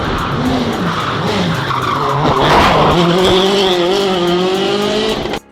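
A Citroen C4 WRC rally car skids with a loud, sustained tire squeal and engine whine that shifts in pitch, close and intense throughout before cutting off abruptly at the end.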